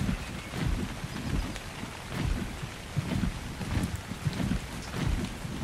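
Steady rain in the survival game ARK: Survival Evolved on the Crystal Isles map, a continuous broadband wash with low rumbling swells that may be wind or distant thunder, with no talk.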